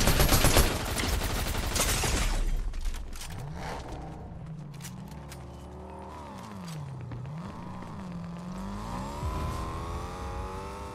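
Rapid video game gunfire rattles in dense bursts at first, then gives way to a car engine revving and whining up and down, with music and other game effects underneath.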